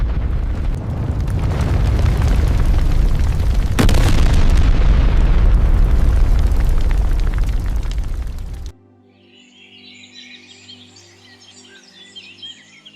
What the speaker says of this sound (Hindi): अगले ही पल एक बड़ा धमाका हुआ और गोदाम की छत ढह गई।